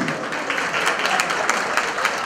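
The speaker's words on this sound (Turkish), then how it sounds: "Şöyle kadın arkadaşlar bir güçlü bir alkış alabilir miyiz?" Applause from the women in the audience at a Turkish community cultural association gathering, a dense steady clatter of many hands sustained throughout, fairly loud and continuous with no talk over it.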